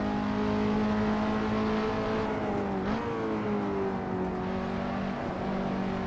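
A KTM X-Bow race car engine in a racing video game, circling Silverstone, drones steadily at high revs, holding a sustained tone that dips briefly as the revs shift midway and then climbs again.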